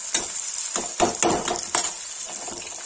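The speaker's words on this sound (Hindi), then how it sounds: "ये इसको प्याज डालूंगी और चलाऊंगी" Onion going into a hot pan for Kashmiri methi aloo, then stirred, a steady sizzle with several sharp scraping strokes of the spoon against the pan, close and alone.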